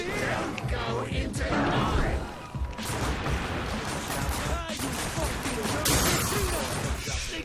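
Gunfire and crashing impacts from the first-person shooter The Darkness II, dense and continuous bursts of shots with smashing hits, mixed with game noise throughout.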